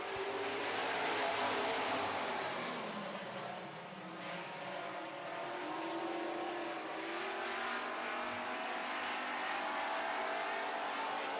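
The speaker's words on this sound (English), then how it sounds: "Out of turn number 4 comes the pack. Rob Como looks them over. They are revved up and racing." A pack of race cars roars out of turn four on a racetrack, a dense, continuous engine howl heard from a distance, swelling and easing slightly as the field passes.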